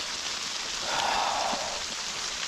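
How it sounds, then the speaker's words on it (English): Steady rain falls in freezing, wet weather, a continuous soft hiss of drops on surfaces with a slight swell in the middle, with no voices. "as you can hear, it's raining"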